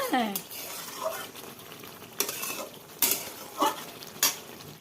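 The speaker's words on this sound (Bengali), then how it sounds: "মাংসটা কষাচ্ছি এখন" Meat being sautéed and stirred in a pan on a home stove, with a low sizzle and several sharp scrapes and clanks of a spatula against the pan. A voice speaks faintly underneath.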